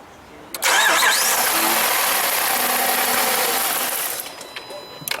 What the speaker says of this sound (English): Yeah, it'll probably start and stall.